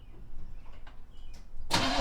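A 1979 Chevrolet C10 pickup's engine is cranked, with a short mechanical churn and faint clatter, then a loud burst of noise right at the end.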